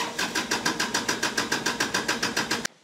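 Kubota L series compact tractor diesel engine cranking after the key is turned, a steady rapid chugging of the starter for a few seconds that cuts off abruptly without the engine catching.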